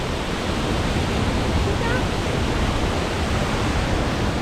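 Loud, steady rushing water roars continuously without pause, a dense broadband wash of snowmelt torrent pouring down a mountainside nearby.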